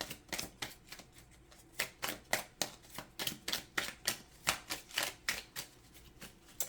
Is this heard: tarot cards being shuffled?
yes